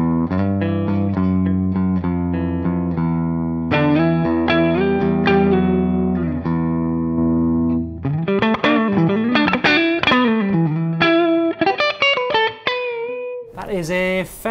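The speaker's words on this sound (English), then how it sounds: "That is a Fender Deluxe Reverb model." An electric guitar through an amp modeller's Fender Deluxe Reverb model plays sustained chords then a busier melodic run, with a warm amp-like tone and reverb, loud and upfront throughout.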